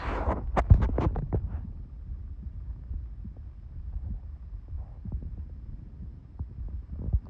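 Muffled, low thumping pulses in a slow, regular rhythm, like a heartbeat picked up through a device, with a few louder knocks at the start.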